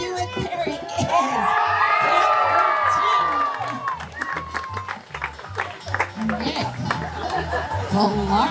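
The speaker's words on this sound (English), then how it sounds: "All right, cheer 'em on. They can hear us. They've got to come back." Spectators at a lumberjack show cheer on a relay race with loud whoops, shouts and clapping. Children's voices mix into the near, swelling crowd noise, which dips briefly midway before rising again.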